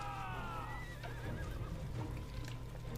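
Horses in the strategy video game Humankind give a loud, close whinny at the start, followed by softer game battle noise and a low steady hum.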